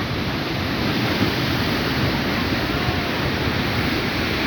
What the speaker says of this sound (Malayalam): തിര ഇങ്ങനെ വരുന്നുണ്ട്.